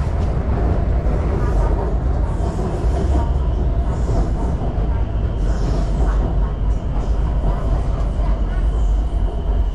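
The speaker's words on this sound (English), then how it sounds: "This is a local form of transport, sky rail." Riding the BTS Skytrain in Bangkok: a constant loud rumble of the train in motion, with rail clatter and a low drone filling the carriage, and voices faintly under the noise.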